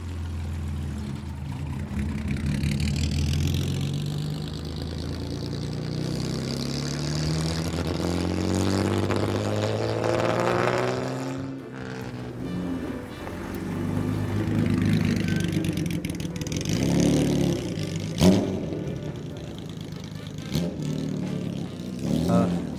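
Jaguar D-Type racing car engine revving at a gathering of several D-Types, a steady loud engine note that rises and falls over about twenty seconds, with brief talk heard beneath it.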